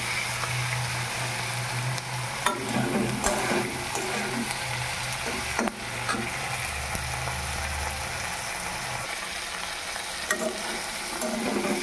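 Dried fish tossed with onions in a hot pan gives a continuous sizzle of frying, broken by scraping stirs and a few sharper knocks of the utensil against the pan.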